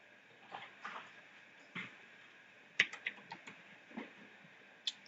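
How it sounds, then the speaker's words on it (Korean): Light clicks from computer keyboard keys pressed while working in 3D product-modeling software, a handful of short, crisp taps spread unevenly over a few seconds, close and fairly quiet, with no talking. "단축키 M 눌러서 재질창 여시고"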